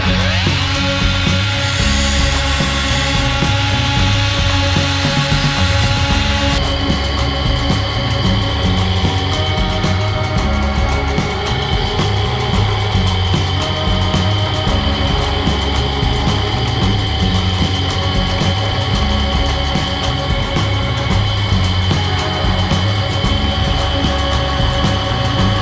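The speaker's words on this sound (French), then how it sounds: "Un coup de meuleuse dessus quand même." An angle grinder works on metal, a loud, unbroken, harsh whine with a gritty rasp that runs steadily for the whole stretch, close by and with no talking.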